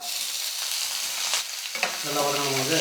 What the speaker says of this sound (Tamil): நம்ம வெங்காயம் வதங்கணும்ல பாருங்கள் வெங்காயம் வந்து நல்லா வதங்கிடுச்சு